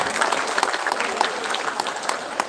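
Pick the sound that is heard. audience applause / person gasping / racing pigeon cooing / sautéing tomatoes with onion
audience applause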